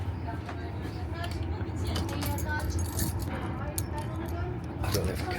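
Keys jangle and clink in short bursts near a train compartment door lock, close by, over a steady low rumble of the moving train and faint background voices.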